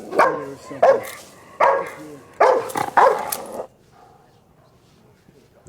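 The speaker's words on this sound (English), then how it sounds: "Hate those damn dogs." Dogs in an episode of The Last of Us TV series bark loudly and close in five harsh, irregular bursts, then fall quiet with only faint background noise.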